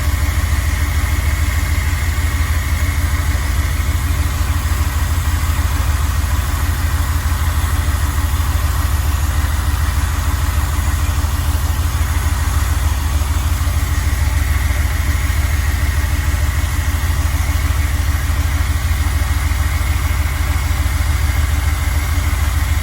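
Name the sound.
car engine idling roughly with carburetor issues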